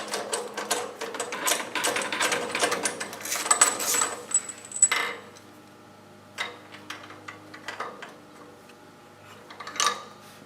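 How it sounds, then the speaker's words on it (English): Rapid metallic ratcheting of a socket wrench loosening the spark plug on a DR RapidFire log splitter engine, a quick clicking run for about five seconds, then a few isolated clicks, close and without talk. "You're going to stick your socket wrench in there. You're going to loosen it up."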